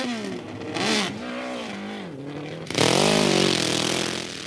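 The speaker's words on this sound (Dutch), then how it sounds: "Tijdens de jaarlijkse dragraces op de airstrip ging het weer erg hard." Drag racing motorcycle at an annual airstrip drag race, engine revving and rising in pitch through gear changes, then a louder surge as it accelerates hard past, close and dominant.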